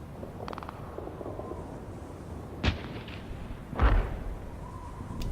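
Video game mortar fire: two distant booming impacts about a second apart, each a short thud with rumbling tail over a steady low background hum.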